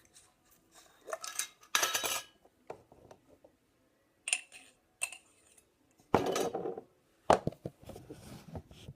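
Homemade walnut butter is spooned into a small jar, giving scattered clinks and scrapes of a utensil against glass in short bursts separated by quiet pauses, close by with no talk.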